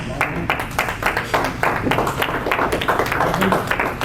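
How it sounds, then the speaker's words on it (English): Applause for an honoree at a business coalition gala, with sharp, distinct claps from a smaller crowd, close and uneven in rhythm, continuing steadily for several seconds. "Please give him a round of applause"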